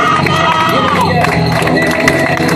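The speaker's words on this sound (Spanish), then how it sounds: "fuerte aplauso" A loud outdoor crowd at a rowing regatta finish cheers and applauds continuously, with shouts, whoops and children's voices mixed into a dense, close roar throughout.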